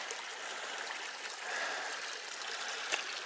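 Creek water runs past a log over Mill Creek on the River to River Trail, a continuous, fairly close rushing and trickling flow at steady volume with small gurgles.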